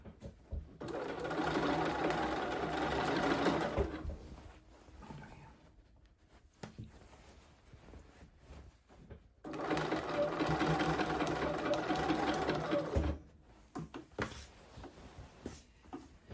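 A sewing machine stitches through about four layers of fabric along a blazer side seam, running in two long steady bursts with a pause between, close and clear, with a few brief handling noises.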